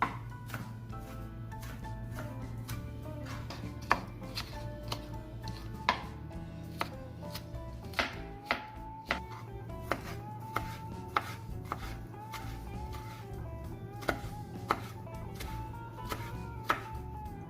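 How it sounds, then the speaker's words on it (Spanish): A knife chops tomato finely on a cutting board, a steady run of close, crisp taps with uneven rhythm over a low background hum, no voices. "Vamos a picar el tomate bien chiquito."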